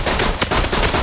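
Rapid, loud gunfire from a weapon in the video game Borderlands 2, a dense stream of shots packed into about a second with no talking.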